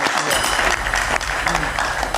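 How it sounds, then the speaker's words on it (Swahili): An audience at a live evening talk show applauds, a dense, steady wash of clapping that stays loud throughout with voices mixed in. "Makofi tafadhali"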